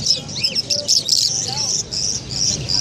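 Java sparrows at a bird market give rapid, high, thin chirps and tweets that overlap continuously, close and fairly loud, with a crowded market murmur and voices underneath.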